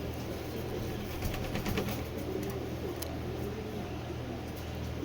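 Imported racing pigeons coo softly in a farm loft, low faint coos over a steady background hum, with no talking.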